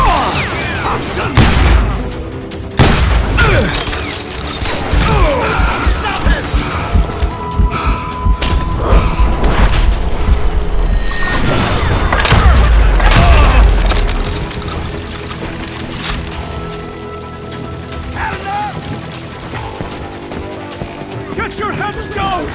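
Gunfire in Call of Juarez: Gunslinger, a Wild West shooter with a shotgun: loud, repeated booming shots and impacts in irregular bursts, mixed with a voice and game noise.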